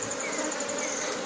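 Bees buzz steadily around a honey frame being handled at a hive, a dense continuous drone close by with no pauses, while faint talk sits low in the background.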